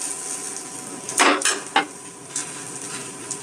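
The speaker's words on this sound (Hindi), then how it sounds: "अब हमें इसे पलटना है।" A non-stick cheela, a gram-flour pancake, being flipped in a pan, with a couple of sharp utensil scrapes and taps over a soft background hiss.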